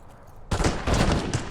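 A gun fires on a firing-range map in a video game, a sudden loud crack followed by a dense rattling burst and echoing tail rather than one clean shot.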